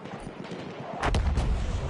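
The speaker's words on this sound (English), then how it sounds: "Where's the guy that keeps shooting at me?" A heavy gunshot blast in Battlefield 1 booms out loud and close after a quieter stretch of distant battle noise, with a second thump following.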